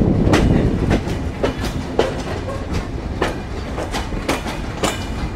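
The Rupsha Bangla Express, a broad gauge train leaving Jessore in Bangladesh, rolls loudly and close over the rails, with a steady roar broken by regular sharp clickety-clack wheel beats at the rail joints.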